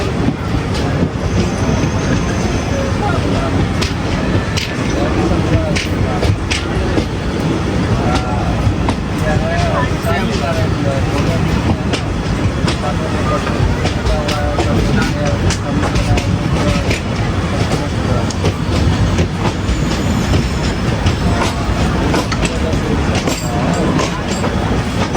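Patna Howrah Janshatabdi train running on rails, a loud continuous rumble with steady clickety-clack from the wheels throughout, and voices talking faintly over the noise.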